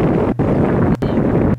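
Strong outdoor wind buffets a camera microphone in old handheld vlog footage, a loud continuous roar broken by a few brief dropouts.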